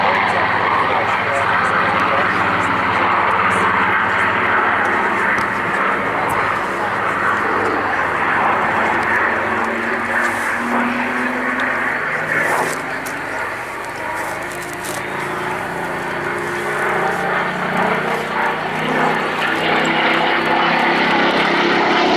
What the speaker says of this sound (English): She is the Spitfire Mark 19